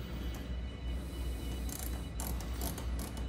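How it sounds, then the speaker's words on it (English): Socket ratchet clicking in quick bursts while tightening a hose clamp on an SR Performance cold air intake for a Camaro, close and fairly quiet over a steady low background hum, with no talking. "you'll take your 6mm socket or your flat blade"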